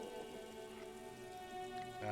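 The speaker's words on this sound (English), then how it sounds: "Rain falls down on the world." Rain falling in the video game Disco Elysium, a steady, even hiss of drops spread across the scene, heard alone under a soft sustained musical drone.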